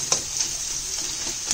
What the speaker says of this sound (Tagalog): Lutuin lang nating mabuti ang ating sibuyas na magkulay ano siya, parang transparent.